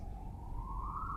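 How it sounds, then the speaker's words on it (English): A police siren passes outside, muffled by distance. A single wailing tone climbs slowly over a low background rumble. "Sorry about that siren."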